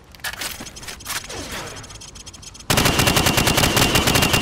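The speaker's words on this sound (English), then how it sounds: "Now, shoot at the targets while firing from the hip." Rifle fire at range targets in Call of Duty: a few scattered shots and metallic clatter come first, then a loud, sustained automatic burst of rapid evenly spaced rounds fills the rest, with no talking.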